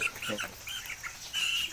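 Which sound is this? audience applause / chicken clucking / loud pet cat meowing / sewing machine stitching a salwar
chicken clucking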